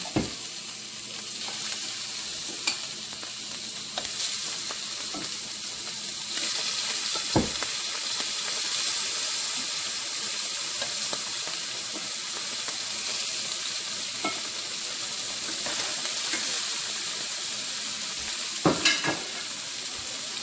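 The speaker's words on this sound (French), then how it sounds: "je mets les autres crevettes dans la même poêle" Shrimp frying in coconut oil in a pan, a steady crackling sizzle that runs the whole time, with occasional sharp clatters and stirring scrapes. Nobody speaks.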